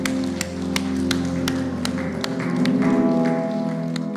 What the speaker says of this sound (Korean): 하나님께 우리 영광의 박수 드리겠습니다.